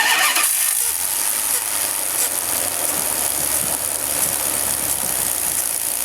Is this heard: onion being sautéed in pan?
no